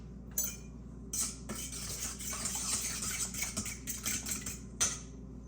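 A utensil stirs pumpkin muffin batter in a bowl, giving close scraping and clinking strokes in a steady rhythm with a few sharper taps against the rim.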